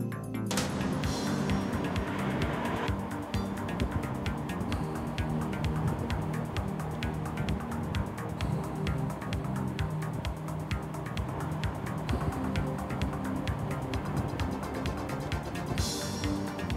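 An Audi TT small sports car being driven, its engine giving a steady, continuous drone with dense rhythmic texture from inside the car, fairly loud throughout.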